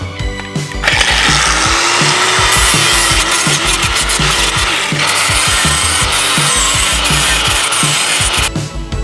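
A power grinder takes sharp edges off a metal bracket during a Mazda B2200 turbo engine build. A loud, steady, close grinding roar runs nearly the whole time, with rhythmic scraping pulses as the tool works the metal.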